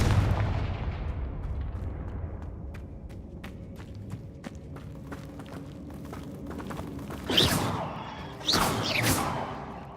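The Confringo explosive spell cast in Hogwarts Legacy: a stretch of low rumble and scattered clicks builds to two loud, close blasts with whooshing tails near the end, with no talking.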